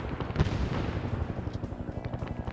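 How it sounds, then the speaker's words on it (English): Mortar explosions in a Vietnam war video game thud repeatedly in quick, uneven succession, with one sharp nearby blast early on followed by a rapid rumbling barrage. "These are your guys getting mortared."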